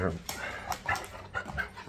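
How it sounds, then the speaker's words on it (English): A dog makes short whimpering yips and soft barks close by in a home, mixed in with someone talking over it. "Boy, this is my mom and dad's dog."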